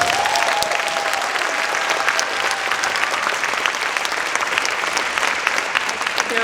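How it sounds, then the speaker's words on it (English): Audience applause fills an event at the Queens Museum in New York, a dense, steady wash of clapping that stays loud and even throughout without a break. "So please give them a round of applause."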